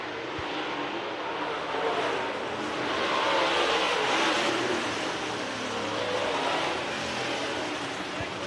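Race cars at speed on a circuit, engines roaring together in a sustained broadband wash that swells and fades slightly as the pack runs wheel to wheel; steady and fairly distant, with no talk.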